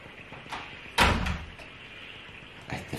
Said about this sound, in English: just close that door easy if you're closing it, Owen.